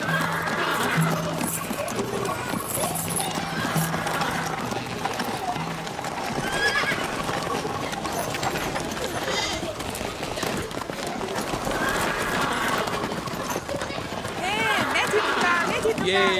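Horse hooves clip-clop at a run with neighing and whinnies in a dramatized historical scene, loud and continuous under background voices and music.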